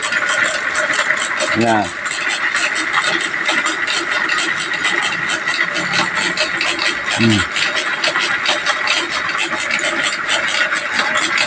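A homemade electric bicycle motor, converted from 48V to 72V, hums with a steady whine while riding outdoors. Someone talks over it, and short rattles break through now and then.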